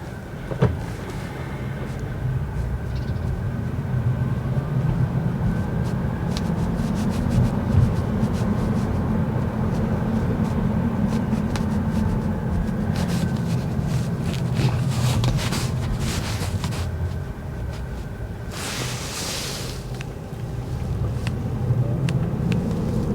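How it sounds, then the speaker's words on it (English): Downtown Detroit traffic passes around a Tesla on the move, a steady low rumble of engines and tires with occasional passing vehicles and brief hissing swells, continuous and without talk. "there is a lot of traffic down here"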